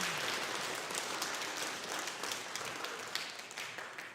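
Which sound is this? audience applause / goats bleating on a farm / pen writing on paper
audience applause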